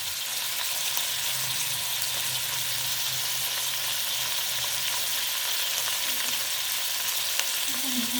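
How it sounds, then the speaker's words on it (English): Red onions frying in a pan: an even, continuous close sizzle holding steady for the whole stretch, with no stirring hits or voices standing out. "First thing was to fry some red onions"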